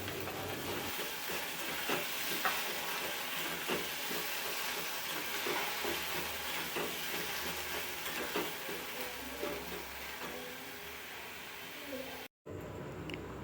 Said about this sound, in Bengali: এবারে খুব ভালো করে এই পাতাগুলোকে কষিয়ে নিতে হবে